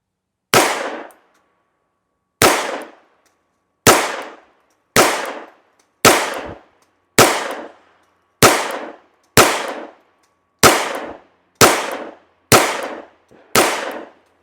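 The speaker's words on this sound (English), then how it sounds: "we'll just get to shoot and see how it does now." Twelve single gunshots from an FN 510 Tactical pistol at a shooting range, sharp loud cracks each with a short decaying echo, spaced about a second apart in a fairly steady rhythm with silence between.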